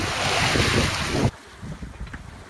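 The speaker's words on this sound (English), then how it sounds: "Well, we're now at sea. We turned the engine off." Waves and strong wind at sea aboard a sailing yacht under sail with its engine off, off the Mewstones near the Yealm River entrance; a loud rush of wind and water cuts abruptly to quieter lapping surf halfway through.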